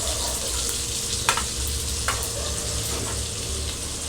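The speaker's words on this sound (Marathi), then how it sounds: "आता आपण कढईमध्ये तेल घेतलंय फोडणीसाठी आणि थोडंसं बटर पण घालणार आहे." Butter and oil sizzle and fry steadily in a hot kadai while tempering is prepared for paneer do pyaza, with a dense continuous hiss and a couple of brief stirring clinks.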